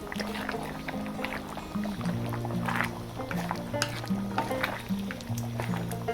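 Beef tendon sinigang soup being stirred in a cooking pot, with soft, faint liquid sloshing that runs throughout beneath steady tonal background music.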